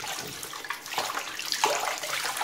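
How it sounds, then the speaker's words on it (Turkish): Running tap water splashes over an Electrolux bagless vacuum cleaner accessory as it is rinsed in a sink, a steady close hiss of flowing water with brief spattering surges, no talking. "Böyle aksesuarlarınız varsa bunun şu aralarını da su tutup güzelce yıkayabilirsiniz."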